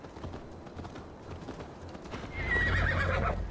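Horse hooves clip-clop steadily in Assassin's Creed Valhalla, then the horse lets out a loud, close whinny near the end over quiet game ambience.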